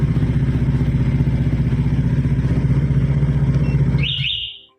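A Honda Vario LED scooter, older model, idles with a steady, close engine chug after being started by remote smart key, then cuts off near the end with a short high electronic beep.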